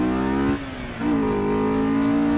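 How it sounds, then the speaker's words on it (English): A Honda S2000 drives hard on a dry race track, its engine note loud and close, holding high revs, dipping briefly on a shift, then pulling back up steadily. "And here is some driving on the"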